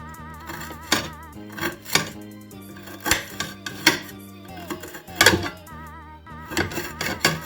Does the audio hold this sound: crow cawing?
no